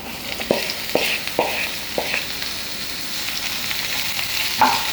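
Long-sliced onions sauté in hot oil with garlic for chilli chicken, a steady close sizzle broken by a few sharp spoon knocks against the pan, with no voices.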